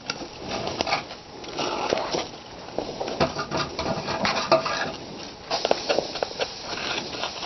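Potting soil scooped into a container while planting garlic, with repeated gritty scrapes and rustling crunches in an irregular rhythm, close by.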